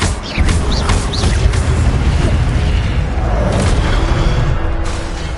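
A fiery blast bursts out as the Incendio spell is cast in a Hogwarts video game, a loud booming whoosh with crackling, rumbling fire that sustains for several seconds before fading.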